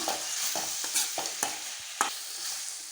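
Tomatoes and masala sauté in a pan, giving a low steady sizzle broken by about eight sharp stirring knocks and scrapes of the spoon against the pan.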